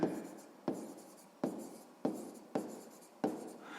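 Pen or chalk writing out a math answer, six rhythmic scratchy strokes each starting with a tap and fading, evenly spaced and close, with no speech.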